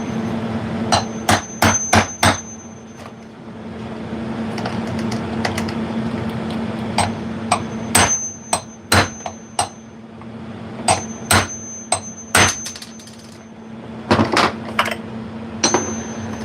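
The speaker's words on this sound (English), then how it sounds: "then another socket on top, then you just hammer it." Sharp metallic hammer strikes ring out in quick clusters and single blows, hitting a socket and washer on Mitsubishi Eclipse parts, close and loud over a steady background hum.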